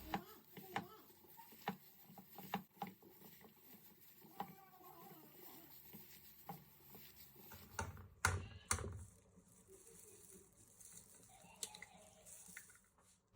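Fatty pork minced with a knife on a cutting board for crab spring rolls, quick irregular tapping chops, fairly close and quiet, with a louder clatter midway.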